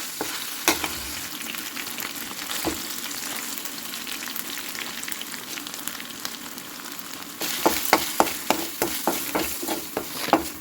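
Ginger garlic paste frying in a pan with Kashmiri chilli powder for a masala eggplant curry, a continuous close sizzle with occasional sharp pops, turning busier near the end with utensil stirring taps.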